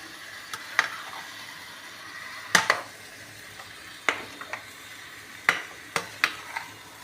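Drumstick leaves and flowers with red amaranth greens are stirred with spices in a pan: a spoon knocks and scrapes against the metal in irregular sharp clicks over a faint, low sizzle.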